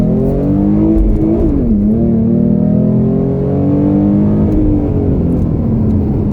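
A Ford Mustang V6 pulls hard to merge into traffic, its engine note rising steadily under load, dipping briefly at a gear change, then climbing again as a loud, continuous drone heard from inside the car.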